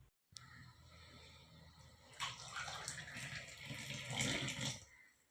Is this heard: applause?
no